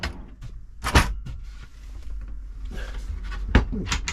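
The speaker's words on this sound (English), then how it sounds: "cutlery drawer comes out like so." Cutlery drawer in the kitchen of an Auto-Trail F70 motorhome sliding out, with two sharp clunks and rattles of the drawer and contents, fairly close and quiet, between low rumbling handling noise.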